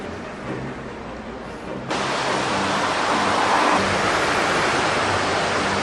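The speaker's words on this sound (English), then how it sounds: "There's a blooming waterfall underneath the bridge." A waterfall beneath a bridge at Constantine, Algeria, pours as a steady, dense roar that swells louder partway through and fills the scene without any talk.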